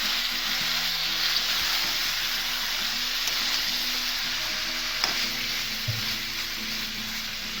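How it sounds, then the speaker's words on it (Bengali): Marinated chicken pieces frying in a pan, giving a steady close sizzle with a few faint clinks and stirs partway through. "এতে আমি মাখিয়ে রাখা মাংসটা দিয়ে দেব"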